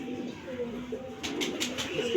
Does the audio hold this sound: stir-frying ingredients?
no